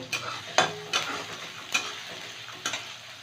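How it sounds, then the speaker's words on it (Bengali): Chopped onion fries in a pan over medium heat, a soft continuous sizzle broken by several distinct scraping stirs at irregular intervals. "পেঁয়াজটাকে একটু ভেজে নেব"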